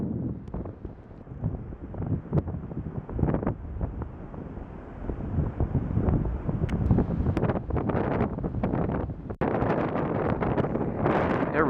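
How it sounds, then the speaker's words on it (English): Strong wind buffeting a microphone on a Pacific Ocean beach, producing heavy rumbling gusts and thumps with constant low roar, loud and close throughout. "Again, apologize for the wind."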